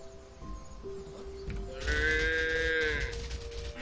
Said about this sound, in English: I'm controlling a whole herd of cows.